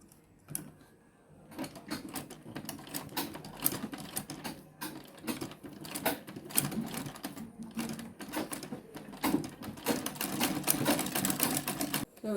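A sewing machine stitches fabric onto a small zipper purse, its rapid mechanical needle chatter running in bursts of varying length, close and fairly loud, with brief pauses between runs.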